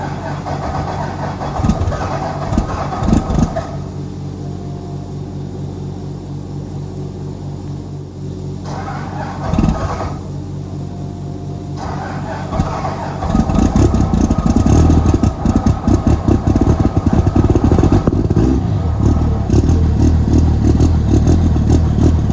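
An old vehicle engine cold-starts at -3° and settles into a rough, rumbling idle, loud and close, with clattery surges and revs that grow heavier toward the end.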